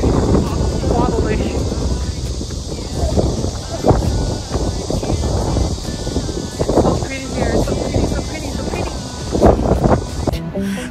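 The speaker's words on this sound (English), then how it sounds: "The wind is so strong." Strong wind buffets the microphone on a wobbly bridge by the Han River, a constant rough roar under people talking throughout.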